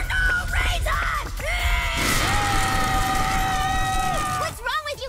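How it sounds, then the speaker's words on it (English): Cartoon characters yelling and screaming together, loud and continuous across the whole stretch, with one long sustained scream in the middle and a burst of overlapping shouts at the end. "Screaming for no reason!"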